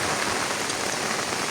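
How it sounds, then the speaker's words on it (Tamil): Heavy rain pours down steadily, a dense hiss of drops hammering a surface with no voices. "சரியான மழை"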